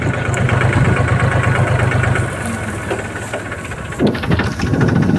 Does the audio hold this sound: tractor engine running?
yes